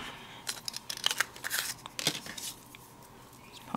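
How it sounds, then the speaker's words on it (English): Scissors snip through paper to cut out small leaf shapes for card making, producing a quick run of close, crisp cutting and rustling sounds with short pauses between them and no talking. "I'm going to cut these out and I'll be right back"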